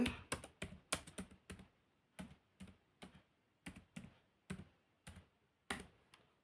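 A college name is typed into an online exam application form on a computer keyboard, a close run of crisp keystrokes in small irregular clusters with short pauses, and no talking.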